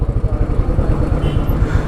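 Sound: motorcycle engine during a ride

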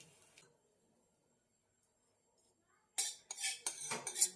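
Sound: spoon spreading tempering over dhokla in a dish

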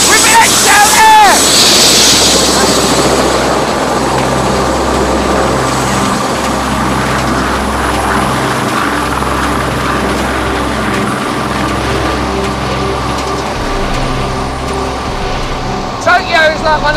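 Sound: helicopter flying

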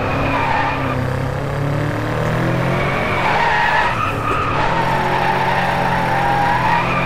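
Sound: car sliding sideways, from DriveClub video game

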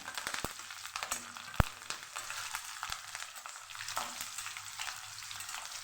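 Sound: green chillies frying in tempering oil

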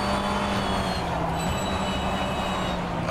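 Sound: BMW M V8 Hybrid LMDh race car in rFactor 2 video game

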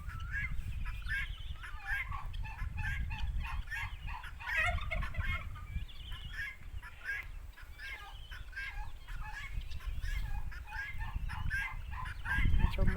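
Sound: flock of turkeys gobbling

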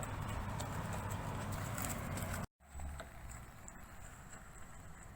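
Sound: horse hooves clip-clopping during riding training

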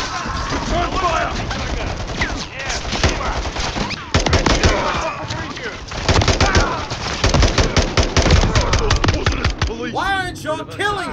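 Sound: gunfire in a video game

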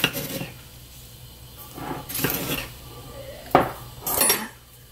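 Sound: spooning sugar into cooked red bean paste

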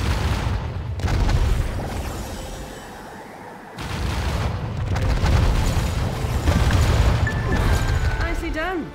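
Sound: heavy weapon explosions in video game Catalyst Black

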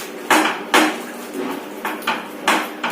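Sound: covering the fish frying pan with a lid

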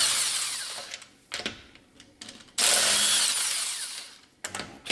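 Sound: Milwaukee electric impact wrench removing wheel

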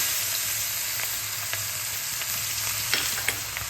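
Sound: chopped onion frying in oil with spices

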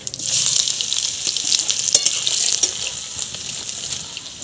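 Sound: chopped garlic frying in spice tempering

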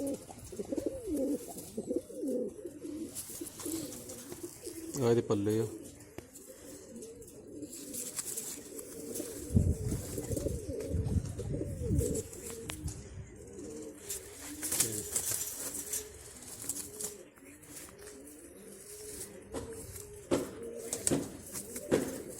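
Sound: pigeons cooing

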